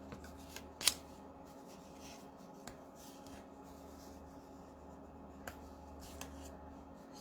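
Paper card being folded by hand for a papercraft canopy project: soft rustling and rubbing with a few sharp crisp creasing snaps, faint and close, with no talking.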